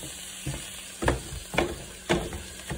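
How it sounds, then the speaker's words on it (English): Ground meat browning in a hot pan for a meat sauce, a steady sizzle broken by four or five rhythmic scraping stirs, close and clear with no talking. "Browning the meat."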